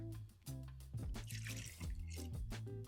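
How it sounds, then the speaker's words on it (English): Milk pours into cake batter in a short, quiet stream, with soft music playing faintly underneath. "So now we're going to put in our milk."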